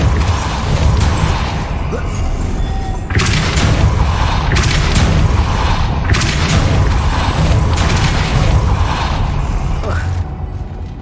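Depulso spell cast in a video game: a few heavy booming blasts with mechanical creaks, repeating in bursts over steady game noise.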